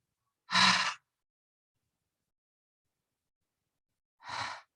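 Two deep breaths during a yoga practice, each a soft, airy exhale like a sigh, close and quiet, separated by several seconds of silence.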